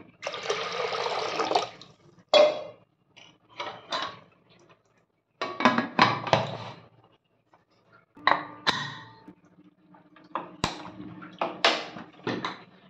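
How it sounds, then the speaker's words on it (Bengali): Water splashes into a pressure cooker holding mung beans in several short, separate pours, with faint clinks of metal or glass between the bursts and quiet gaps in between. "অল্প করে জল দেবো।"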